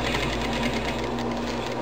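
Electronic sewing machine stitching fabric while quilting a phone holder, a steady close mechanical whir with even rapid stitching throughout.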